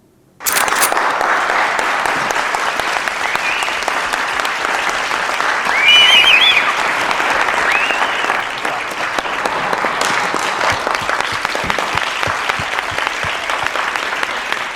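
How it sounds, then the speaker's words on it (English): Recorded applause plays loudly from a CD inside the Royal Court Theatre, starting abruptly after a brief silence and then continuing as a dense, unbroken wash of crowd clapping with a short swell partway through. "we're going to play out an applause CD. We're going to play it quite loud"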